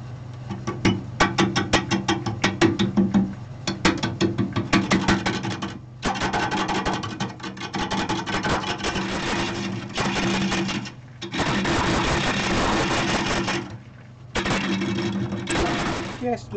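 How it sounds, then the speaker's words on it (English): A hollowing tool chatters in rapid clicking bursts as it cuts deep end grain in a yew bowl on a lathe, in loud runs separated by short pauses and over a steady motor hum, with someone talking. "Now you can hear the cut changing. The clickings are getting longer"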